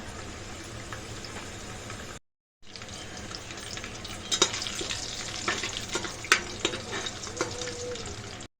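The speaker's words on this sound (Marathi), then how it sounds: "त्याच्यामध्ये अडीच पळी तेल टाकलेलं आहे आपण फोडणी देऊन घेऊया जिरे कढीपत्ता" Cumin and curry leaves tempering in hot oil inside a pressure cooker on a gas stove, a loud, dense crackling sizzle with sharp pops that grows busier after a brief gap of silence.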